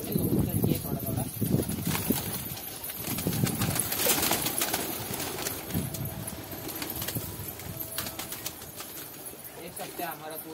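Pigeons crowd around grain, a busy flock pecking and shuffling with occasional coos and wing flaps, steady and close.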